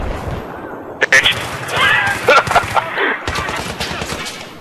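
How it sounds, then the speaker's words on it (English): Rapid bursts of automatic gunfire crackle in the video game Battlefield, loud and close with several sharp volleys separated by brief gaps, mixed with faint voices and game effects. "Don't shoot at us, teammate."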